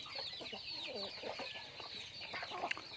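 A flock of about ten farm chickens, kept alongside ducks and geese, clucks and chatters continuously at a moderate distance, overlapping calls layered over steady outdoor background noise.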